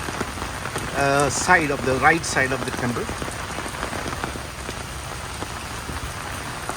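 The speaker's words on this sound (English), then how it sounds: "I can use this sound of rain as a music." Rain falls steadily at Ngoc Son Temple on Hoan Kiem Lake in Hanoi, a dense continuous patter on surfaces, with someone speaking briefly at the start.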